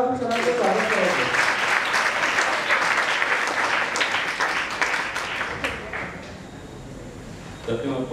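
A workshop audience in Bhiwandi gives a speaker a welcoming round of clapping, dense and loud at first, then thinning out and tapering toward the end.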